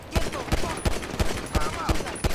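Gunfire in the game GTA V with the LSPDFR police mod: a series of about ten sharp shots in a fairly regular rhythm, close and punchy, with no talk.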